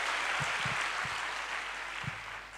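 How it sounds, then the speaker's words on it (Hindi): A crowd at a youth motivational conference in Rajasthan claps steadily, a sustained wash of applause heard from within the hall, punctuated by a few low thumps. "ताली बजाए जोर से।"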